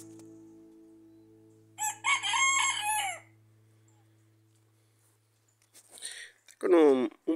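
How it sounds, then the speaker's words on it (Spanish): A rooster with a hoarse, strained throat crows once near the end, a short rough call following a burst of nearby talk over a low steady hum on an early morning. "Con un poco de problema de garganta el gallito ese."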